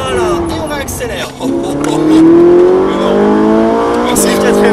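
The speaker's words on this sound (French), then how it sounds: "Voilà, et on réaccélère" A Ferrari 458 Italia accelerates hard on a racing circuit, its engine note climbing loudly, dipping briefly at a gear change, then rising again before another shift, with a person talking over the engine.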